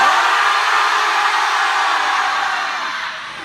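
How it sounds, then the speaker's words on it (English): An audience screams together on a count of three, a loud continuous roar of many voices that holds steady and then begins to fade toward the end. "On the count of 3, everybody scream."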